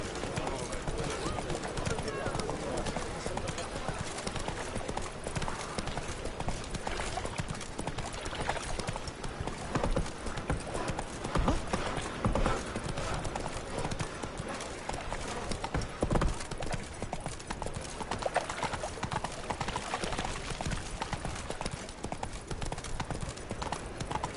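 Roach, the horse in The Witcher 3, gallops steadily for the full stretch, hooves clattering in a dense continuous rhythm with an occasional whinny, while game voices and music play underneath.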